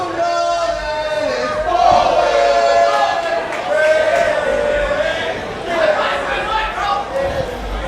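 A wrestling crowd at a Chase Oliver versus Alec Price match cheers and shouts in loud, rising waves, with excited voices standing out over the steady hubbub.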